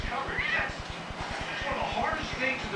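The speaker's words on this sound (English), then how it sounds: "Look at Kitty. Meow, meow, meow." A house cat outdoors near porch steps meows while a person speaks over it, and a steady rhythmic ticking or clicking pulses underneath.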